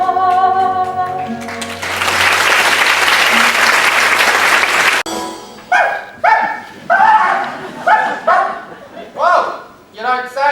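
Dog barks on stage during a Mary Poppins musical performance, sharp, yappy and repeated in an uneven rhythm, following a swell of loud audience applause. Music and voices are heard before the applause, and the barks may be a performer imitating a dog.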